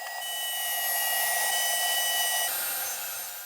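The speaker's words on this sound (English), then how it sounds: "and then just finish it off with the router" Router trimming the squared-off corner of a reclaimed Douglas fir (Oregon) outdoor tabletop, a loud steady high-pitched whine that holds evenly and shifts slightly in tone partway through, close up with no talking.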